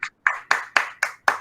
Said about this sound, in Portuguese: Palmas para o professor Gilberto.